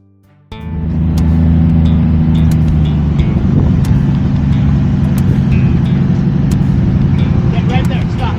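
An off-road vehicle engine revving hard as it climbs a rocky trail, a loud sustained growl that starts abruptly and holds steady with rising strain, with a voice giving directions over it.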